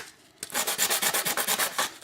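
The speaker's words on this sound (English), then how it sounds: "So I'll roughen up these areas where the doubler boards go." Sandpaper roughens a painted rotor mast surface so contact cement will grip, a quiet moment giving way to about a dozen fast, even back-and-forth rasping strokes close up.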